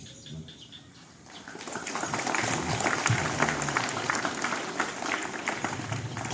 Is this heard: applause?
yes